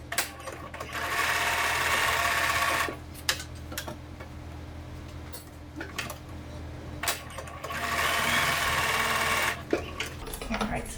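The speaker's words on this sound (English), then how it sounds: "we're just going to sew across the strap part, or the shoulder" A sewing machine runs in two steady bursts as it stitches across the fabric strap of a Japanese knot bag, with a rapid mechanical whir and clicks and handling noises between the runs.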